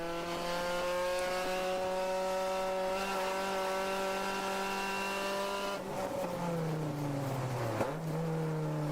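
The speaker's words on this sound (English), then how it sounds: "You could hear the engine revs change just a bit." A race car engine during a ChampCar endurance race at the Pittsburgh Grand Prix drones steadily at a high pitch, then its revs shift noticeably, dipping and rising again near the end, loud and close throughout.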